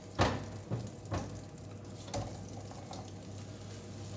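Onions caramelising in melted butter in a pan, a soft continuous sizzle with a few sharper crackles and pops early on, fairly quiet.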